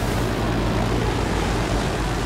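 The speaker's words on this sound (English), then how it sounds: "Enemy chopper coming in." An enemy helicopter comes in during a multiplayer shooter match, a loud continuous rotor and engine roar that fills the whole moment with no talk over it.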